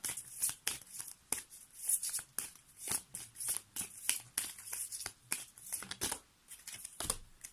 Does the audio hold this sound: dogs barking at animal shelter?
no